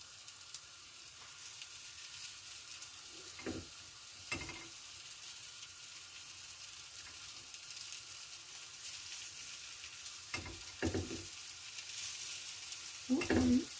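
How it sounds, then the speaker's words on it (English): Steady, close frying sizzle of zucchini burger patties on a grill runs throughout, with a few louder crackling bursts and clatter breaking through now and then. "You want to hear that sizzle?"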